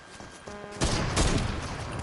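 Sniper rifle fire in a video game, a quiet lead-in followed by a sudden loud burst of shots and crackling impacts that lingers for about a second.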